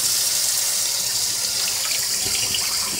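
Water poured off oxtails in a bowl at a kitchen sink, a steady close rushing splash that runs unbroken throughout.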